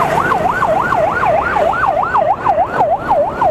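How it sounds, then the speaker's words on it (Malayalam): Ambulance siren on an unlit night road, a loud wailing tone rising and falling in a fast, regular cycle, close by and continuous. "ആംബുലൻസ് അതാ"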